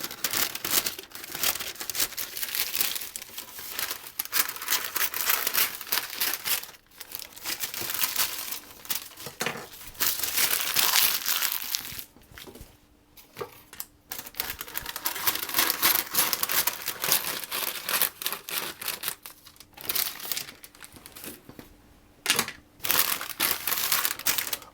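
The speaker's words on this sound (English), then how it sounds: "I'm just going to cut off excess" Excess baking paper, trimmed while lining a quiche tin, is crumpled and crushed in loud, close, continuous crackling bursts with a few brief pauses, lasting over twenty seconds.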